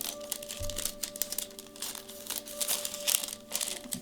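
Wrapping paper is cut along its side while wrapping a bar of soap, producing close, irregular crinkling and rustling with small snips and paper shuffles across the few seconds.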